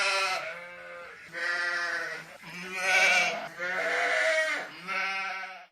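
Sheep in Wales bleat loudly and close, four or five long wavering calls in a row separated by short pauses, with no talking over them.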